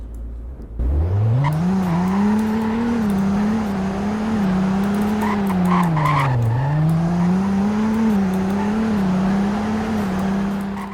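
A 2020 Falcon Heritage car in the Roblox game Greenville starts off and drives, its engine tone rising, dipping briefly and climbing again in a steady loud drone with a tire-like hiss, alone with no talk.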